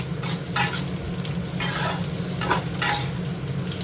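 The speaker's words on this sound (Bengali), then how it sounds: "ক্যাপসিকাম কটা দিয়ে দিলাম, এবার ক্যাপসিকাম কটা দিয়ে নেড়ে নেব।" Capsicum pieces frying in oil in a kadai as they are stirred, a steady close sizzle with repeated scraping strokes of the spoon against the pan.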